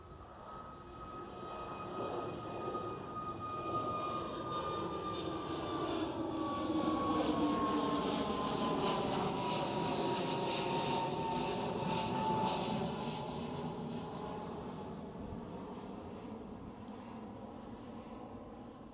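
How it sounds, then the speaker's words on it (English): A KLM Airbus A321neo jet airliner passes at Schiphol Amsterdam, its engine roar swelling and then fading with a gliding whine sweeping downward as it moves by. "KLM is slowly replacing those 737s with these brand new Airbus"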